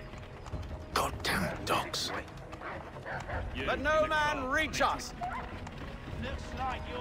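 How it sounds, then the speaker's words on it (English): Dogs bark in Assassin's Creed III amid a fight, with sharp, repeated barks mixed with clattering hooves and movement while voices shout over the action. "Goddamn dogs!"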